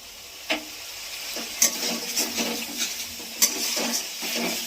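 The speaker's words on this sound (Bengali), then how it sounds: "এবার আমি জল দিয়ে দেবো।" Water poured into fried spice paste with turmeric for a rohu fish kalia, a close sizzling hiss broken by several sharp clinks and scrapes of stirring.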